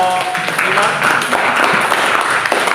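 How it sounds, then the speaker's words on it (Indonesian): A room of students applauds a group after a class presentation, a loose, steady round of clapping with scattered sharper claps and voices underneath. "Beri aplaus untuk kelompok"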